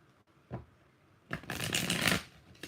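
Tarot cards shuffled by hand, heard as a brief soft tap followed by a longer papery riffle, close and alone with no talking.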